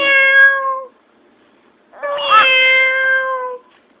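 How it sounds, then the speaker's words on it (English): Two drawn-out, cat-like meows ring out loud and close, separated by about a second of silence. "Meow."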